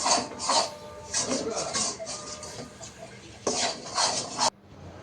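Chickpea halwa with ghee and milk powder is stirred in a pan: a spoon repeatedly scrapes and clinks against the metal in uneven strokes, close and moderately loud.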